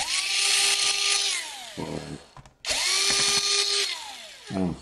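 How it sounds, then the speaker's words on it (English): Power screwdriver backing screws out of a Dell Inspiron 15 5000 series laptop, two close whirring runs that rise and then wind down, with a short clicky pause between them. "So we unscrew all of those six screws, we set them aside."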